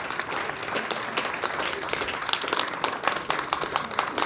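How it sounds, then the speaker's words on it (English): A crowd claps for a poet at an outdoor memorial gathering by crashing waves, the applause brisk and fairly close, with louder individual claps standing out in the second half. "please put your hands together and give a huge round of applause to Hakeem Adam as he shares his poetry with"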